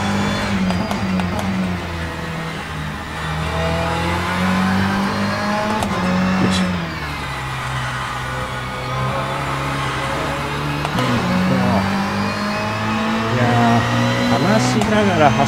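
Race car engine in rFactor 2 lapping the Nürburgring, a steady droning whine that rises and falls with gear changes and revs, close and loud, with someone talking over it.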